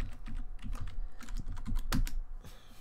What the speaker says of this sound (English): Let me type in Netflix.